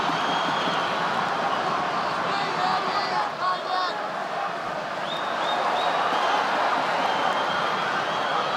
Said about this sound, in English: Brazilian crowd goes wild as Teixeira gets a takedown